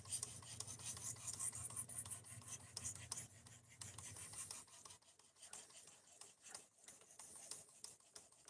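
A blade drawn over a 3,000 grit whetstone, giving a steady, close rasping scrape that repeats in strokes with no talk over it.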